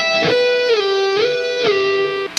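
An electric guitar plays the opening of the first solo from a song at a slowed pace: sustained, loud, bright notes linked by slides and bends, with no voice present.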